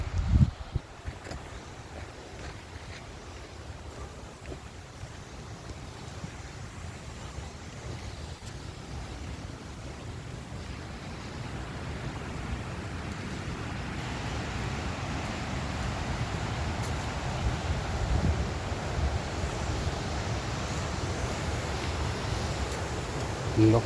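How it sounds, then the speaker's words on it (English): Rushing water from a waterfall outdoors in Sweden roars as a broad, steady wash mixed with wind buffeting the microphone, growing somewhat louder partway through. "now we'll go down to the waterfall and you guys can see it"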